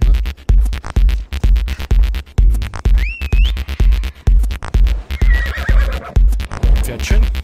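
Horse in Assassin's Creed Odyssey gives a high, wavering whinny amid loud, rhythmic hoofbeats and game sound, with a second fainter neigh later.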